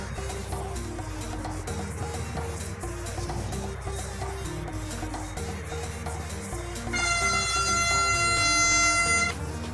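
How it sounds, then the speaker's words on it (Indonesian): An airport rail train pulls away from Duri station after reversing direction, with a low, continuous rumble of wheels and motors and a loud, sustained horn blast near the end. "Muter dulu arah keretanya nih."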